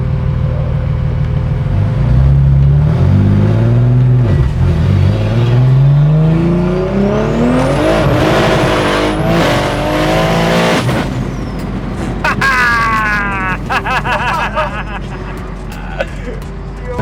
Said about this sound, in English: The turbo's winding up.